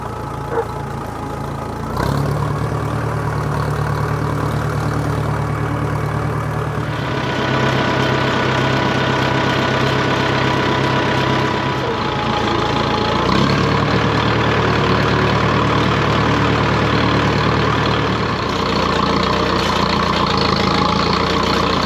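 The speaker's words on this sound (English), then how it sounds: "park the tractor" A farm tractor engine idles loud and close, a steady, throbbing low drone that shifts in pitch a few times but never stops.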